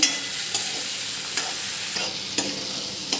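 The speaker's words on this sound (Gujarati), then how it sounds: "હવે આપણે ટમેટા નાખીશું કઈ દમ પીગળી જાય ત્યાં સુધી આપણે સોટાઈ કરવાનું છે" Tomatoes sautéing in a pan for pav ragda, with a steady sizzling hiss broken by a few sharp scraping stirs of a spoon against the pan, close and fairly loud with no talk.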